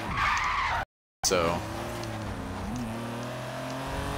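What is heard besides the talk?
car drifting with e-brake skid, Forza Horizon 3 video game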